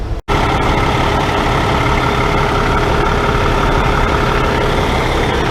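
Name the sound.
Peterbilt 386 truck engine rolling into truck wash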